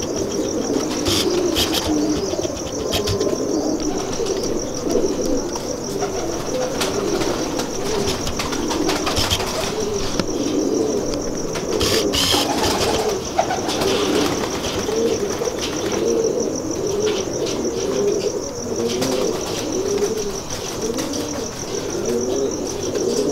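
Golden pigeons coo continuously in a low, bubbling chorus close by, with bursts of wing flapping and a steady insect-like high whine running throughout.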